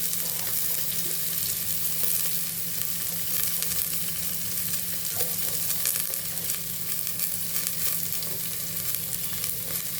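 Vegetables, including carrots, frying in ghee for a meal maker biryani, giving a continuous close sizzle with light stirring scrapes running through the whole stretch.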